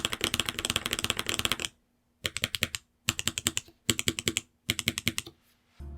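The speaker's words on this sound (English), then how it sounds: "The bump isn't as pronounced as it is on other switches, but it's still noticeable and enjoyable to type on." Close typing on a mechanical keyboard with light tactile Matcha switches comes in quick, even clacking bursts, one long run and then several shorter ones split by brief silences.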